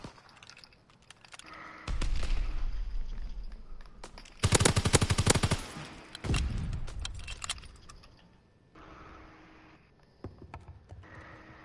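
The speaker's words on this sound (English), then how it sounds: "Somebody tried to shoot me." Gunfire in a first-person shooter game: several bursts of rapid automatic shots at moderate distance, the densest volley in the middle, with scattered single cracks and mechanical clatter between them and no talking.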